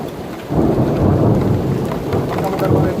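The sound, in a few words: heavy rain and thunder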